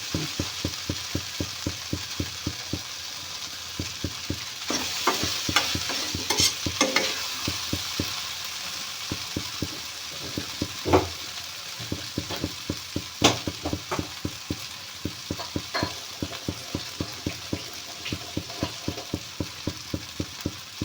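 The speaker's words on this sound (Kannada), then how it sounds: "2 ನಿಮಿಷ ಫ್ರೈ ಮಾಡ್ಕೊಳ್ತೀನಿ ಅಷ್ಟೇ" Okra palya frying in a pan while being stirred, a steady run of sharp scraping and tapping strokes with a soft sizzle underneath, close and continuous.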